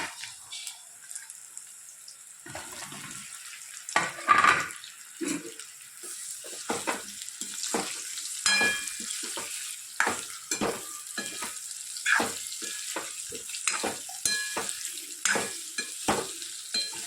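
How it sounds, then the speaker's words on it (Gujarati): A tempering sizzles in peanut oil in a pan, a soft crackle broken by repeated bursts of loud spattering and stirring, with running water faintly heard at times. "સિંગ તેલની વઘારે છે એટલે મસ્ત સુગંધ આવે છે"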